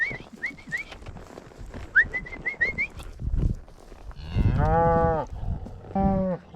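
Cattle on a Montana ranch hillside low and moo in several drawn-out calls, two strong ones near the end, mixed with a person's rising whistles and calls earlier on.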